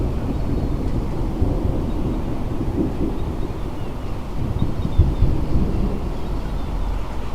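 Low thunder rumbles heavily over the Port of Southampton, with a brief swell partway through, all set against a steady wash of wind noise.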